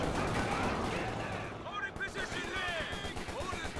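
Tank cannon and gunfire from a Company of Heroes 2 battle with a StuG, dense and continuous, with bursts of firing and battlefield noise throughout while a commentator talks over it.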